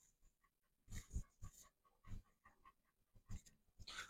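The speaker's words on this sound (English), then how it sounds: "he is sitting on the floor behind me, panting like crazy because something is scaring him" A frightened dog sits on the floor panting hard in quick bursts of rough, breathy huffs, close but quiet, with short pauses between bouts.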